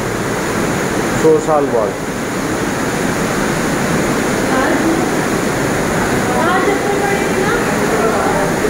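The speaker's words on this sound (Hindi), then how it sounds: "आज ये 100 साल बाद नदी में इस तरह का पानी आया हुआ है।" Floodwaters of a swollen river in Dehradun rush steadily in a broad, continuous roar, with people talking over the torrent throughout.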